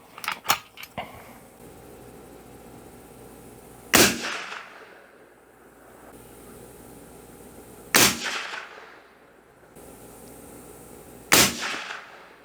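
A Marlin 336 lever-action rifle fires while being sighted in at a range: three sharp, loud single shots about four seconds apart with short decaying echoes, after several quieter clicks and knocks at the start.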